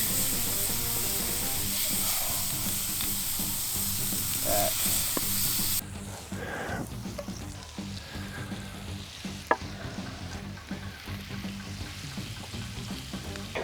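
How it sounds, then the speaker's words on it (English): Two bone-in ribeye steaks sear on a cast iron pan with a loud, dense, steady sizzle that drops to a lower, crackling hiss about halfway through, broken by one sharp metallic clank near the end. "two beautiful bone-in ribeyes. We're about to throw them on top of this cast iron"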